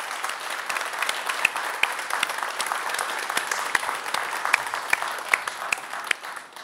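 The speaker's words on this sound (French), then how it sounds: "on l'applaudit très fort" A studio audience on a French-language variety show applauds the burgomaster loudly, with steady, sustained clapping from many hands and occasional sharper near claps standing out.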